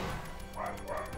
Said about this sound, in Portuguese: não sei porque cachorros latem randomicamente.